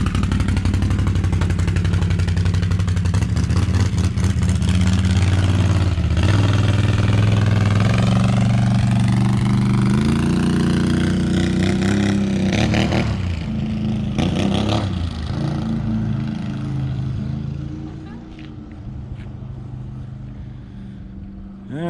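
A vehicle fitted with an RJWC Krossflow Mud Edition exhaust passes by, its loud deep engine rumble and rising rev sweeping past close up, then fading as it moves away.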